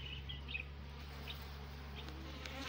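Honeybees buzz around an opened, lightly smoked hive during a frame inspection, a soft, steady hum with a few individual bees droning past, quiet and without speech.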